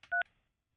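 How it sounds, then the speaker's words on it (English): Single short telephone keypad DTMF tone pressed while dialling, a brief clean two-pitch beep, close and alone. "Hang on, I'm Mickey, I'm calling you"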